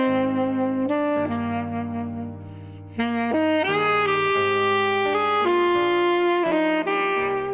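Classical saxophone plays a short melodic phrase of sustained, clearly pitched notes with smooth changes between them, full-toned and close, with no voices present.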